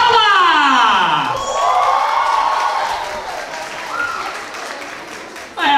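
Audience at a Capipop Pocket 2023 K-pop cover contest applauds and cheers loudly for the third contestant, Fael, with shouts and whoops over steady clapping that fades slightly before a final burst.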